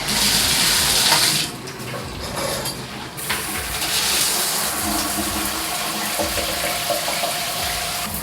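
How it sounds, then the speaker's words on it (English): Water runs steadily through a BWDM 15-stage shower filter, a close, continuous gushing hiss that briefly dips and then resumes at full flow. "So I'm going to turn on the water and show you guys what the water looks like when you guys first use it."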